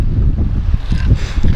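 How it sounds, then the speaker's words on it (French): Strong wind gusts outdoors, buffeting the microphone with a loud, uneven low rumble. "le vent va emporter tous mes petits papiers"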